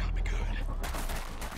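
Rapid gunfire bursts from the online shooter game Blacklight: Retribution crackle throughout a short stretch, fairly loud and dense, with a brief voice murmuring underneath.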